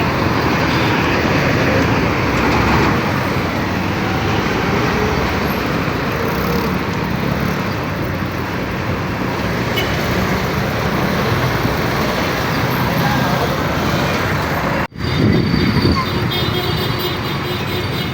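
Heavy street traffic during a jam, slowed by a truck crash near a mall, forms a steady, dense roar of engines and road noise that runs the whole time, with a brief dip near the end.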